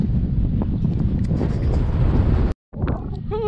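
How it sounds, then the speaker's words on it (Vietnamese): Strong wind roars across the microphone outdoors at a shrimp pond during a fishing trip, a loud, continuous buffeting rush that cuts out briefly near the end before resuming. "Ôi gió thổi ghê."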